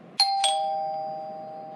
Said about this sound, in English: Someone rang on my doorbell and then left.